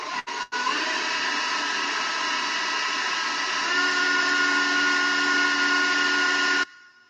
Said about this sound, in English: I'm going to put the mixer on again for a quick, and it's going to go really loud